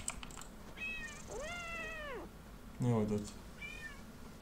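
A lynx cub in the video game Paws lets out several rising-and-falling meows, spaced apart, while a person talks over the game audio.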